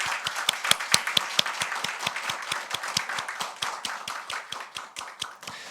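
A church congregation claps together at a New Year's Eve worship service, a steady rhythm of sharp, fairly even hand claps that carries on throughout, with no talking over it.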